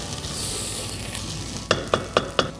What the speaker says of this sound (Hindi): अब जाएगा इसमें जिंजर गार्लिक पेस्ट, इसे भी अच्छी तरह से हम सौते करेंगे।